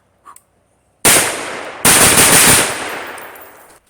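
Two long bursts of rapid gunfire from a suppressed 10.3-inch 5.56 AR rifle fitted with a Dead Air Sandman-K, loud and close, the second burst trailing off into echo, after a brief faint tap.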